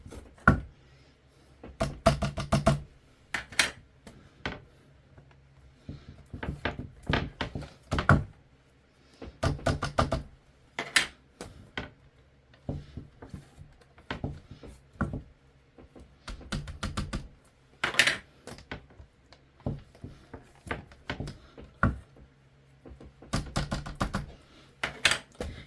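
Repeated plastic clicks from a Sizzix Stamp and Spin tool as it stamps and rotates, irregular clusters of close, crisp taps over a quiet background.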